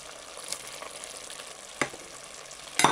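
Vegetable stew with peppers being stirred in a multicooker, a steady soft simmering hiss broken by a few brief scrapes and clinks of the spoon, the loudest near the end.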